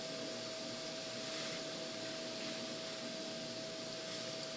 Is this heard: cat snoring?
no